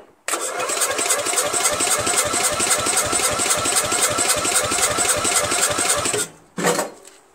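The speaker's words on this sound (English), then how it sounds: "Let's give it a couple of cranks and see how much compression." Briggs & Stratton flathead lawn mower engine, a 13.5 HP unit on a Murray Select 40-inch mower, cranked over by the starter for a compression test: loud, steady rapid chugging for about six seconds, then a brief final whir as it stops.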